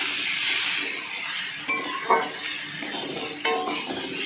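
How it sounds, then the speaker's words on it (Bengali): Oats with salt and turmeric powder are stirred in a pan, with a low sizzle beneath scraping strokes and a few metallic clinks of a spoon against the pan, close and fairly quiet, no voices. "আর দিচ্ছি হলুদের গুঁড়ো দিয়ে আবার ভালো করে নাড়াচাড়া করে নিচ্ছি"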